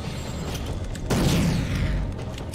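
A grenade blast in the post-apocalyptic shooter RAGE, a sudden loud boom that hits mid-clip and rolls off into a rumbling, debris-like tail over ongoing game noise.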